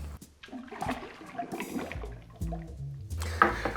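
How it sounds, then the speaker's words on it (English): Allen's apple juice, about 2 ounces, poured into a cocktail vessel, a short splashing liquid pour with small drips and clinks, fairly close and moderately loud with no talk. "And I'm using some Allen's apple juice, and we'll use 2 ounces or 60 milliliters."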